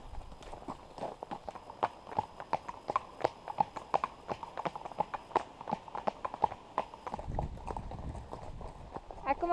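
Spirited horses clip-clop through a riding lesson, with a brisk, regular patter of hooves close by and voices talking over them.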